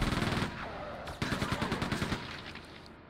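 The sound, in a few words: machine gun firing in the video game Quake II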